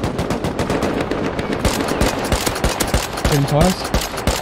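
Rapid automatic gunfire crackles in a dense, continuous stream during a Rust online match, loud and close, while players talk over the shooting.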